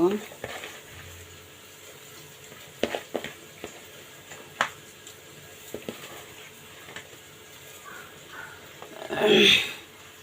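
Chopped onion and green chilli frying in a pan for a tengra fish curry: a soft, close sizzle broken by sharp clacks of a spoon, swelling to a louder hiss near the end.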